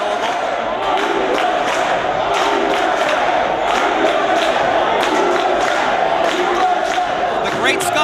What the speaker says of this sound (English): The USA chants keep breaking out